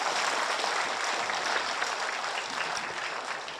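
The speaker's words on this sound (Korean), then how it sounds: "그럼 박수 한번 치세요." A Buddhist meditation lecture audience breaks into steady, dense applause that fills the room evenly, fading slightly toward the end with no voices over it.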